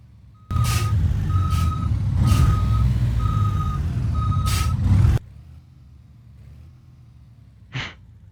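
A compact truck reversing in the BeamNG driving game sounds loud, steady, repeated reversing beeps over a rumbling engine, then cuts off, leaving quiet with one short hiss of air brake near the end.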